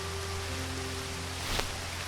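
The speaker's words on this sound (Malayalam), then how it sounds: "ഓ, തോരാത്ത മഴ 3 ദിവസമായി." Heavy, unbroken monsoon rain pours as a dense, even wash of noise, loud and steady throughout with a low constant hum beneath it.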